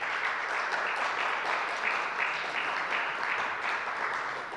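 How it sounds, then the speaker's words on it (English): A crowd at a launch event gives a steady round of applause, even dense clapping held at a moderate level from start to finish. "Please give him another big round of applause."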